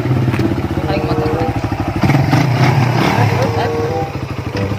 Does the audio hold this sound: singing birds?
no